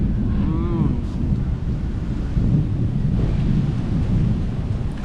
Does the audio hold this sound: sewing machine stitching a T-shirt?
no